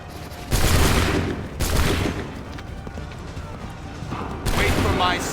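Musket volleys crack out in the Assassin's Creed 3 video game, with three loud massed gunfire bursts spaced a second or more apart. Soldiers shout battle commands in between the volleys.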